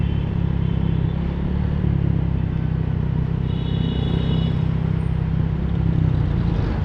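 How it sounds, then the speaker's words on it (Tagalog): Road traffic surrounds a rider, a close, steady engine drone and hum of passing vehicles with light clatter, continuous and fairly loud, with no talking. "Naku po, traffic pa rin."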